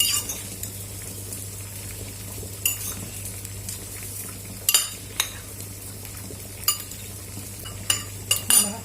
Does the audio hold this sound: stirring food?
yes